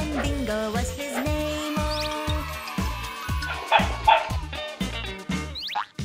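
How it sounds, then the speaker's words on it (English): Dog barking in the Bingo nursery rhyme song: repeated rhythmic bow-wow barks and yips set to a bouncy children's tune, loud and upfront, with a squeaky toy-like sound now and then. "Oh, there was a farmer, had a dog, and Bingo was his name."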